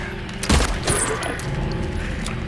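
Gunshots in the Silent Hill 2 Remake: a couple of sharp, close shots spaced about half a second apart over a low ambient hum.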